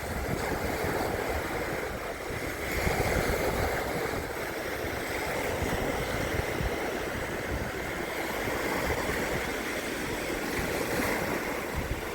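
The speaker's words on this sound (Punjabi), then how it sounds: "ਇਹ ਹੈ ਪਾਣੀ ਦੀਆਂ ਛੱਲਾਂ ਛੱਲਾਂ ਦੇਖੋ ਕਿੰਨੀ ਰਫਤਾਰ ਦੇ ਨਾਲ" Water waves rolling in at the Geelong waterfront in Victoria, Australia, a steady broadband wash of surf with wind noise, continuous and fairly loud with no voices.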